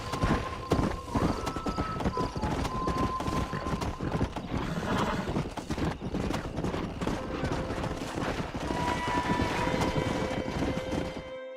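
Horse hooves clip-clop and a stallion neighs in the Red Dead Redemption game, loud and close, over a busy game soundscape with tonal music and occasional gunfire-like bursts.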